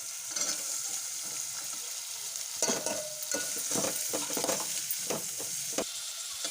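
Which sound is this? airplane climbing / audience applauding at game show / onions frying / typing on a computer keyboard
onions frying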